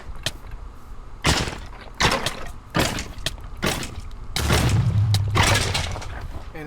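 Mutant claymore grenades in Minecraft go off as a series of sharp, booming blasts, about half a dozen spaced bursts, the last ones merging into a longer rumbling roar.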